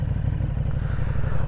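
A 1290 superbike rides through town, its engine note a loud, steady low rumble with a rapid pulsing beat that builds and pushes on through the whole stretch, close to the microphone.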